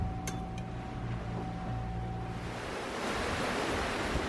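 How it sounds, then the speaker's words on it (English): Wind and waves at sea aboard a sailboat crossing the Pacific Ocean, a steady broadband rush that grows louder and fuller toward the end, with a faint tonal hum early on. "Looks like the wind decided to pay us another visit."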